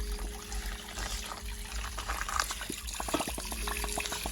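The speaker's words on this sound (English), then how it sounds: "As you see, the water is starting to fill up." Water pours into a backyard fish pond during a weekly water change, a steady splashing trickle with bubbly gurgles that grows busier toward the end.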